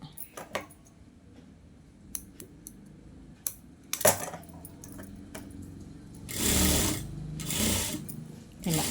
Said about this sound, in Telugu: నేనైతే మినిమం ఒక నాలుగు కుట్లు అయితే వేస్తానండి